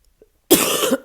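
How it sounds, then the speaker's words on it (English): A single short, sharp cough sounds close to the microphone, with near silence on either side. "Again, apologies for my coughing."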